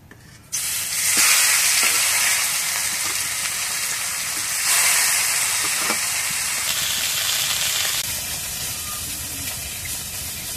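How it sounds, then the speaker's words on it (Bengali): Bhola fish frying in a pan of hot oil, a continuous bright sizzle and hiss that holds steady for about ten seconds with a few swells, heard close and alone. "আর বাকি মাছগুলো ভেজে নেবো কিভাবে।"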